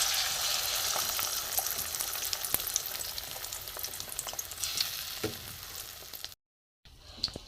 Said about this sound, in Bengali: তেল গরম হয়ে গেছে, এখানে আমি ডিমের মিশ্রণটা দিয়ে দেবো।